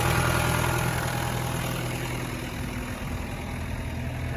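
A 1993 Land Rover Defender 90 with a 200tdi diesel engine idles steadily nearby, a low, even clatter and hum holding at a constant level with no voices.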